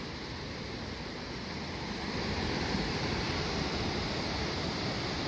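A forest waterfall in the Silver Peak Wilderness rushes in a steady broadband roar, heard from a distance through the trees with no voices.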